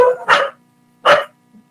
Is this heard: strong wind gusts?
no